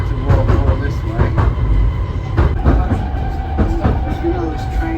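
Train running on rails toward the seaside, a steady loud rumble with rhythmic clicks and thumps from the wheels and occasional brief squeals, filling the whole stretch with voices mixed in.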